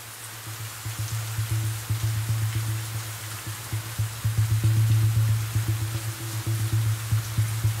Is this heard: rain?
yes